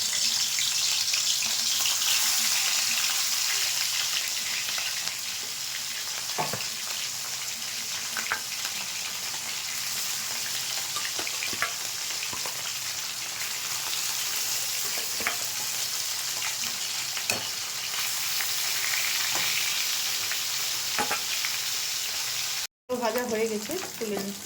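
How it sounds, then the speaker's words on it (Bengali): Katla fish pieces fry in hot mustard oil in a kadai, a loud, steady crackling sizzle broken by occasional stirring scrapes and a brief dropout near the end. "মাছটা ছেড়ে দিচ্ছি"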